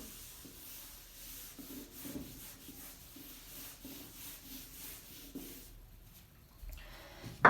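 Equations are rubbed off a classroom board in a steady stretch of dry, rhythmic scrubbing strokes, close and fairly quiet, with no talking.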